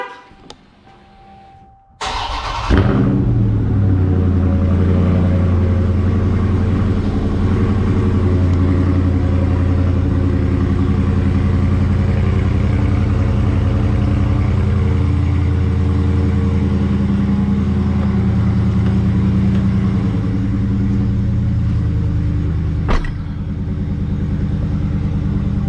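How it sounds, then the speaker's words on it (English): A 2019 Dodge Charger Scat Pack's 392 V8 cold-starts with a sharp crank and bark, then settles into a loud, steady, deep rumbling high idle that lasts to the end, with a brief click near the close. "Cold start."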